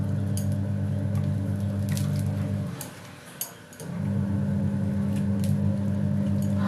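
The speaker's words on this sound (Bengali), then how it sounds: "এই যে এতটা ধনে পাতা নিয়েছি, নিয়ে এবার এই বেসনে ভালো করে মাখিয়ে নেব।" Fresh coriander leaves are worked by hand into a gram flour (besan) batter for crispy chops, giving soft, wet squishing under a steady background hum that briefly drops away midway.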